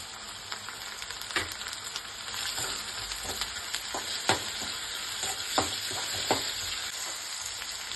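Tomato sizzles steadily in a pan over softened onion for an aloo palya, with a spoon stirring in occasional scrapes and taps, a constant hiss close by and no voices.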